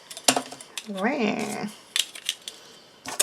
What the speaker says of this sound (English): I have some just twine here, some jute twine. And I'm going to cut off a good little bit there.